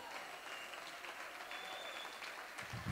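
A church congregation applauds during a Spanish-language worship service, a steady, dense wash of many hands clapping that fills the room without pause.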